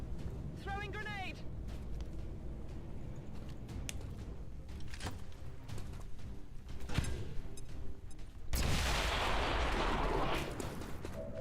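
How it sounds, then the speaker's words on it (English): A grenade thrown in the XCOM 2 game, its sharp loud burst arriving late after clicks, mechanical creaks and small shots, then a broad rushing blast that fills the last few seconds while people talk underneath. "Throwing grenade"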